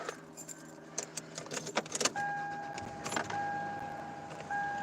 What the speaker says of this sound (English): Car starts like a dream.